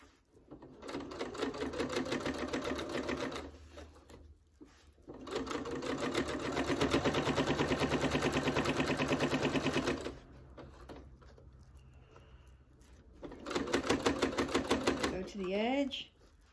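A sewing machine stitches a fabric hot pad in long rapid bursts of even clatter, stopping and restarting several times while a voice explains between runs.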